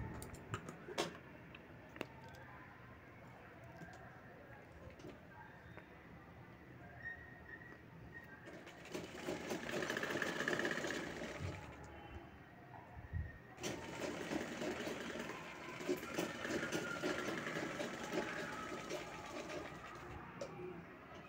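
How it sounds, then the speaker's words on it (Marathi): Sewing machine stitching the folded edge of a fabric sleeve, quiet rattling runs of stitching in two bursts separated by a pause, with faint clicks and handling sounds around them. "तसंच दुसऱ्या साईडनं पण आपल्याला शिलाई घ्यायची आहे दुमडून"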